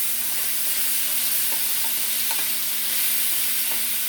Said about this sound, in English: I'm going to stir this around a little bit